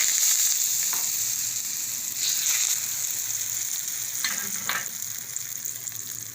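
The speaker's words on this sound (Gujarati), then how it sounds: "અને વઘાર નાખીશું" Hot oil tempering with curry leaves for bajra flour dhokla, a loud, continuous sizzle with a few brief sputtering bursts, close up and uninterrupted by talk.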